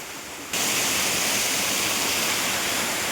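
A small waterfall at a village riverside roars in suddenly after a half-second of quieter ambience, then holds as a loud, steady, close rushing of falling water.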